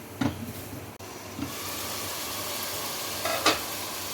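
A masala of ground coriander, tomatoes and green chilies sizzles steadily in a pan over a medium flame for chana pulao, with a few close clinks and scrapes of a spoon stirring.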